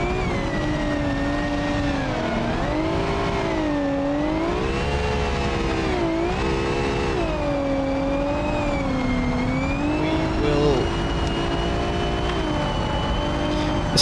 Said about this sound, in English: Let's have a little bit of quiet so you guys can hear the amazing sounds of these cars.